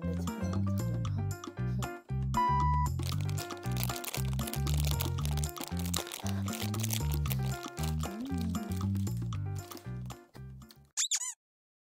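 Crunchy kohakuto Japanese crystal candy is chewed right at the microphone, with crisp, dense crunching bites and wet mouth sounds over a steady background of music.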